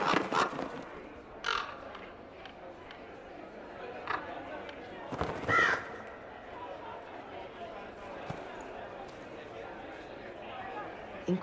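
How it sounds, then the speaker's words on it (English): Crows cawing in the Dragon Age: Inquisition video game, several harsh caws at intervals over quiet outdoor ambience, with voices talking nearby. "Birds like breadcrumbs."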